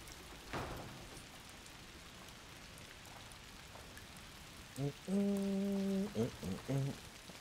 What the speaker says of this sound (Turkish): Yağmur yağar, ıslanırsın